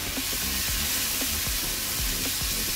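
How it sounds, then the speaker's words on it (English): Sliced onions and sweet peppers sizzle loudly and steadily in a pan, a dense close hiss with low thuds and scrapes underneath. "Now I'm going to add in sliced onions and sliced sweet peppers"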